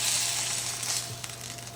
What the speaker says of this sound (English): Ooh, there was some sizzling going on down there.